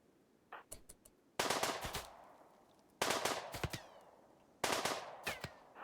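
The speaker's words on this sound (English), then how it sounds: "Oh, the machine pistol's so good." Three bursts of rapid machine pistol gunfire in a video game, each a loud, dense volley of shots followed by fading echoes, preceded by a few sharp single clicks.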